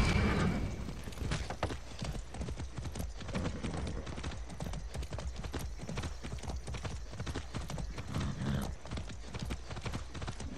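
Rapid, steady clip-clop of a mountain horse's hooves galloping in Far Cry 6, loud and rhythmic throughout, with an occasional faint whinny.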